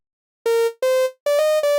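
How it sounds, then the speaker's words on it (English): Synth lead in the style of SZA's R&B track I Hate You, built from a saw wave with a boosted fundamental for extra low end, playing four sustained notes alone, the first two lower and the last two pitched higher and legato, bright and buzzy. "our 4th sound of this video is the lead from I Hate You"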